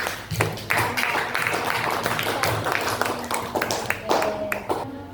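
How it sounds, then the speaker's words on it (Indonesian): Students in a middle-school counseling class clap together, a burst of uneven, close hand claps with some voices mixed in, tapering off toward the end. "beri tepuk tangan untuk"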